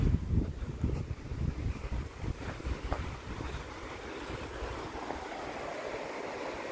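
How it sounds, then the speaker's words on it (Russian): Clean mountain river in Dagomys near Sochi, heard as a steady broadband rush of flowing water with strong low rumble, loudest at first and then settling to a continuous wash, with no speech. "Горная чистая река, в которой водится рыба."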